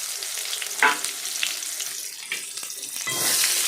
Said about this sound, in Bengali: সেই কাটা পেঁয়াজগুলো দিয়ে দেবেন কড়াইতে